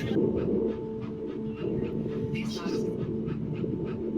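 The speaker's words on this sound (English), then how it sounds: "You got the puppy." A puppy at a vet check in the game That Dragon, Cancer pants and whimpers softly up close, with quick breathy pants and thin whines repeating over steady background tone.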